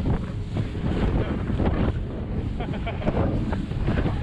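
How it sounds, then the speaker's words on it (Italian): Choppy sea and rough waves roll in at the shore near a boat, buffeted by steady, loud wind gusting across the microphone. "c'è il mare un po' mosso"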